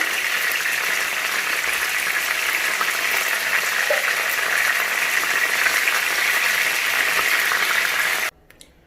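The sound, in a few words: fish frying in oil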